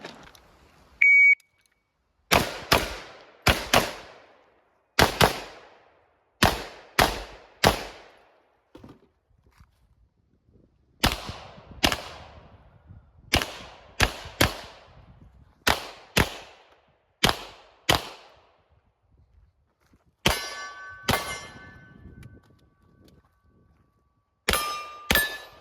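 A shot timer's beep opens a practical shooting stage, followed by sharp handgun shots fired in quick strings. A pause comes midway for a grip readjustment before more rapid, loud shots and a second beep.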